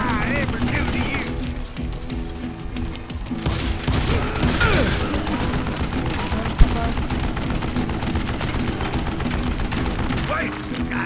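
Dense, continuous gunfire from the video game Call of Juarez Gunslinger, with rapid overlapping shots and mechanical clatter throughout and one sharp louder crack, layered under music and in-game voices.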